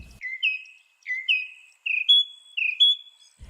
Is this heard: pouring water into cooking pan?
no